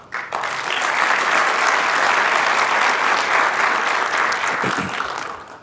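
A crowd applauds at a mayor's State of the City address, the clapping rising quickly and holding dense and loud for several seconds before easing off.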